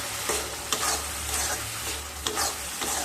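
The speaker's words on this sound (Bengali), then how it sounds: "বেটে রাখা ওই স্পেশাল মশলাটা দিয়ে দেব। দিয়ে একটু নেড়ে নেব।" A ground special spice paste for potol chingri, pointed gourd with prawns, sizzles and fries in a pan while a utensil stirs it, with a steady hiss and several distinct scraping strokes at uneven intervals.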